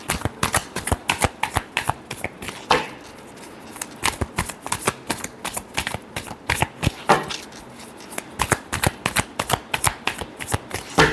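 Tarot cards are shuffled by hand close up, a long run of quick papery slaps and flutters in uneven bursts with a couple of brief pauses, with no talking.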